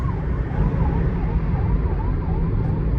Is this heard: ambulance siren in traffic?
yes